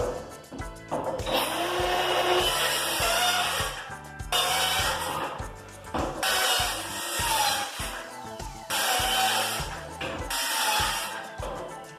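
A power saw cuts 1/2-inch plywood boards for a shower enclosure in a house addition, with about four loud, whining bursts separated by short pauses.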